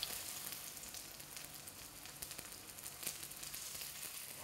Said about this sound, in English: demonstrate pan or shallow frying and cook some Chinese lamb bubble and squeak cakes